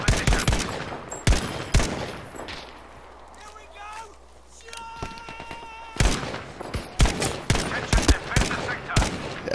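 Sharp single rifle shots from a jungle carbine crack in Battlefield V, arriving in irregular bursts with a quieter stretch in the middle, while a player talks between them.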